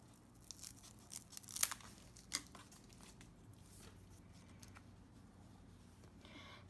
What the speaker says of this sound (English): I'm going to cut 3 inches of Velcro.